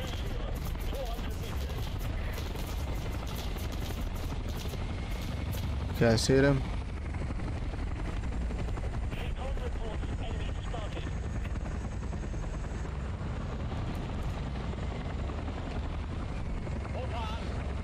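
A helicopter in a combat game drones steadily throughout, with bursts of gunfire and a loud shot near the middle, while someone talks briefly over the noise.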